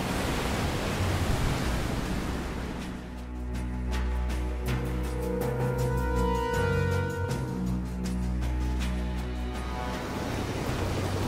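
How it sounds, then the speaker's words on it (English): Ocean waves and surf around a boat in a storm in the Vision of Mana video game, a continuous loud rushing wash of water with swelling surges and a low rumble, no voices. "Careful of the swell of the waves."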